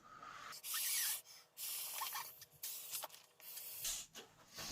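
Breaths are blown into an inflatable camping pillow in a few loud, hissing gusts separated by short pauses, close up with no talking.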